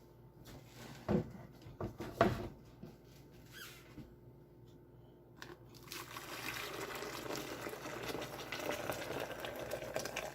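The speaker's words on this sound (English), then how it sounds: "Boiling water for iced tea." Quiet clinks and handling noises at first, then a rising steady bubbling hiss of water coming to a boil for iced tea.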